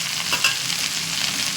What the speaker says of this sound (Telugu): ఆరిపోయిన కరివేపాకు అయినా కూడా ఇలా చిటపట్లు ఆడుతుంది నూనెలో వేయగానే.